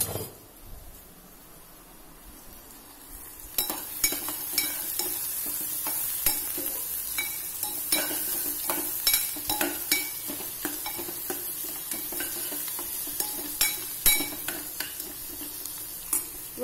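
Onion cooks in a pan for shev bhaaji, starting as quiet low frying, then rising into a brighter steady sizzle with frequent sharp scrapes and clinks of a spoon stirring against the metal.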